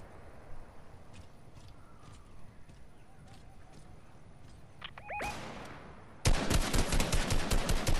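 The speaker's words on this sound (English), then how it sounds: "someone's shooting behind us as well" Gunfire in the shooter Fortnite: a few faint shots and metallic pings lead into a loud, rapid automatic burst that rattles steadily for the last two seconds.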